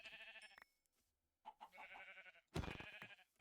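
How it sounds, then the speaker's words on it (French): Sheep bleating in a horror-mod video game, several short wavering bleats in separate bursts with quiet gaps between, fairly clear and alone. "il y a des moutons là-bas"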